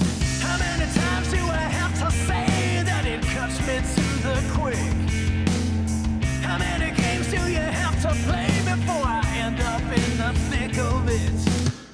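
A full rock song mix plays back from a Cubase project, dense and loud throughout, with steady drums, bass and layered guitars and no talking.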